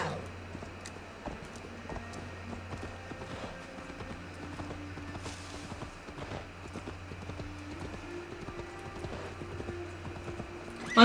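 A horse gallops in the video game Assassin's Creed Valhalla, its steady hoofbeats clopping continuously at a moderate distance, with faint background game ambience.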